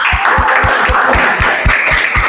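Students applaud a presenting group in a junior high classroom at SMPN 5 Pangkalan Lada, loud close clapping with a strong, even rhythmic beat running throughout.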